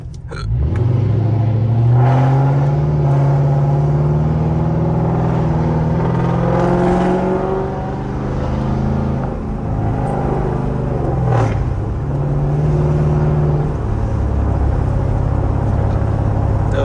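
A rebuilt Dodge Charger with a 392 engine and transmission rumbles loudly from inside while driving, with deep engine drone and repeated rises in revs as it accelerates, then settles back to a steady cruise.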